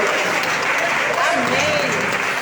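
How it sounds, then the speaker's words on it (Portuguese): A women's church gathering claps for the Lord, dense, loud applause filling the whole short stretch with voices faintly mixed in. "Você pode aplaudir ao Senhor?"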